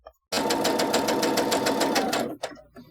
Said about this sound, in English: I can just sew right until that stitching there.